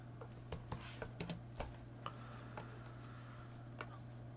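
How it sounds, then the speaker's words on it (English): A computer keyboard is typed on as a search is entered into Google, giving a quick, uneven run of light clicks at close range over a faint steady hum. "I'm going to type into Google here"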